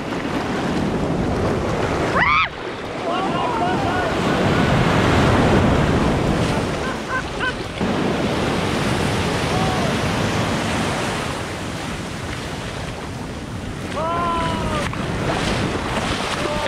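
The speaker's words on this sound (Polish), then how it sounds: "Fale są niezłe." Waves breaking and washing up a beach in Bali nearby, a continuous surging roar with wind noise and a few brief whistle-like tones.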